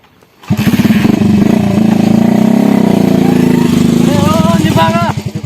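A motorcycle engine runs steadily at close range for most of the clip, a loud continuous rumble with a brief rise near the end, while people talk over it.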